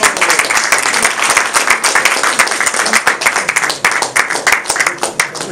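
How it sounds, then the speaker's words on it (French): A loud, thunderous round of audience applause at a book launch at Fouquet's, with many hands clapping close and dense, pulsing slightly but unbroken from start to finish. "j'aimerais un tonnerre d'applaudissements"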